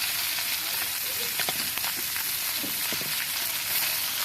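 Fish fries in a pan on a wood-fired stove, a steady loud sizzle running throughout with occasional sharper crackles and pops.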